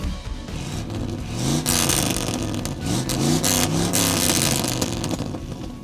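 A 1957 Chevy 150 engine idles and revs nearby, a loud, throbbing rumble that swells as the throttle opens and settles back, continuous throughout.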